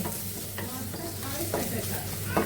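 Eggs and sausage fry together in a pan with a continuous, moderate sizzle, cut by several sharp scraping strokes of a utensil stirring them at roughly even intervals. No one speaks.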